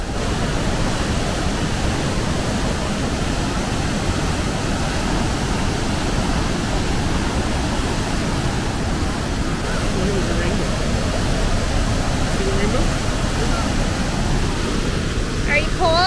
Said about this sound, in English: Here's the bottom side of the falls. So much water going down there.